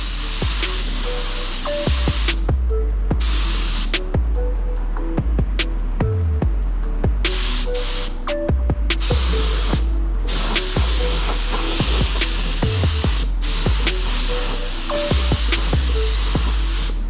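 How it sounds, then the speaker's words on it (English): Clear coat is sprayed from a spray gun onto a custom carbon fiber dash for a Toyota Hilux, giving a loud, steady hiss broken by regular bursts and pauses as the trigger is worked. "let's mix up some clear coat and hose it on, see how this will look"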